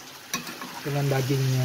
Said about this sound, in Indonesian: Diaduk-aduk sampai merata.